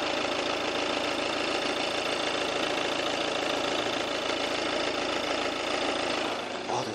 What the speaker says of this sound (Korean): 정말 연비 효율성 좋은 이 아우디의 디젤 엔진 소리 한번 들려드릴게요.